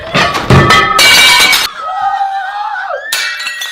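Plates smashing in a loud burst of breaking crockery and shattering glass, several sharp crashes close by in the first second and a half, followed by lingering ringing tones and a final clatter near the end.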